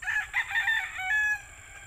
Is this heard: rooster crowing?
yes